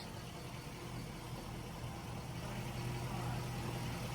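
A Jaguar idling in drive with the brake held, its steady low engine hum and driveline drone continuous and close with no talk.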